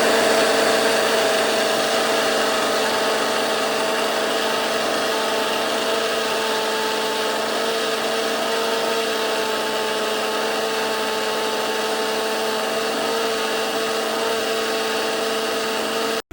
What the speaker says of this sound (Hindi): जार में डालने के बाद मैंने मिक्सर में अच्छे से उसको